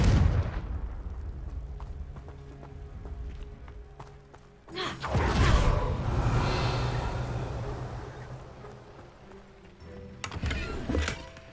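A Confringo fire-blast spell cast in a Hogwarts video game: a low rumbling bed, then a sudden loud whooshing burst around the middle that swells and slowly fades, followed by a sharp thump near the end.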